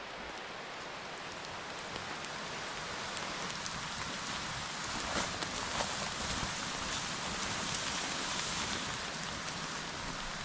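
Steady rain pattering on a tent at a campsite, a dense, even hiss of drops that holds constant throughout, with no voices.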